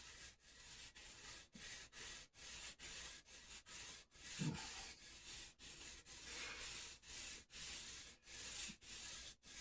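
Nickel silver frets on a Jazz Bass are rubbed down by hand in a steady back-and-forth rhythm, a close, soft hissing scrub with brief pauses between strokes.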